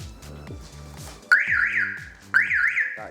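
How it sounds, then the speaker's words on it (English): A Toyota Supra undergoing a manual and turbo conversion sounds its car alarm, a loud, close, rising electronic siren tone that restarts twice over a low, rhythmic background pulse. "That is the alarm that Dan's currently playing with, trying to"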